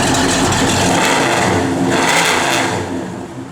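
The engine of a 1971 Chevrolet Chevelle SS, not a big block, revving loudly and steadily up close with a dense, rough roar that eases off near the end.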